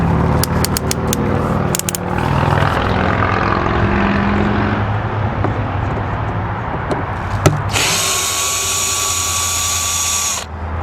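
A cordless power drill with an adjustable clutch backs screws out of an RV clearance light. A steady mechanical drone runs throughout, and a loud, high motor whine rises near the end before cutting off.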